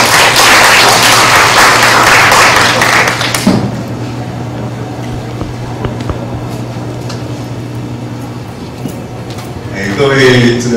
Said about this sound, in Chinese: 请大家热烈掌声欢迎